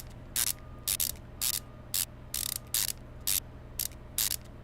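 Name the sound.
tightening wheel lug nuts in Car Mechanic Simulator 2015 video game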